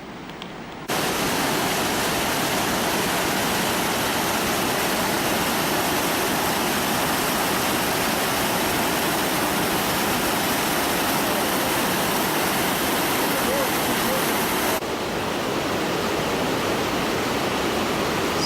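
The swollen Rječina river rushing with unusually high water, a loud, unbroken roar close by that holds steady, easing slightly near the end.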